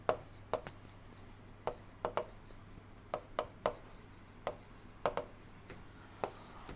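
Chalk or marker writing by hand on a board during an engineering lecture on steam turbines, heard as a series of short scratchy strokes in irregular bursts over a quiet room hum.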